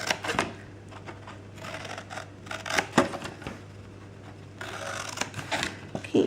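Scissors snip through scored paper for a handmade gift bag, a series of short crisp cuts and rustles at close range, irregular and fairly quiet, with no talking.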